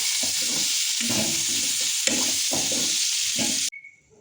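Silkworms frying crisp in a pan, a loud, dense sizzle with stirring and scraping throughout that cuts off abruptly near the end, leaving faint quiet.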